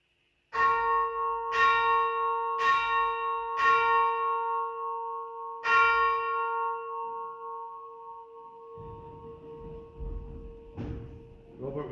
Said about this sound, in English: call us to worship by the ringing of the bell